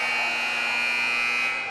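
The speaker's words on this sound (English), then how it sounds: "We'll wait for the buzzer before we have Kaiser serve." A steady electronic buzzer drones at a high school volleyball game between Pierre and Mitchell, holding one loud continuous tone for the whole moment with no talk over it.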